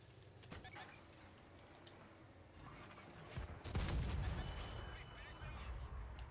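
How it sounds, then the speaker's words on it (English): Artillery fire in the tank game World of Tanks on console, with a heavy blast around the middle and broad rumbling impacts and crackle after it, against a constant battle din. Voices are faint in the background. "Leave me alone, artillery!"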